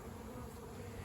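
Honey bees at a backyard hive make a soft, steady buzz that stays faint and low throughout the short moment, with no voices.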